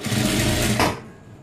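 A sewing machine stitches a puff sleeve blouse with a loud, close, steady motor whir that runs for about a second and then winds down and stops, with no voices.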